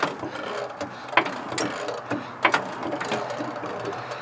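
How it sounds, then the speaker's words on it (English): A ratchet is cranked under heavy tension while a bent Unicorn is being straightened, giving a run of close, irregular mechanical clicks and creaks with a few sharper metallic ticks. "I keep cranking."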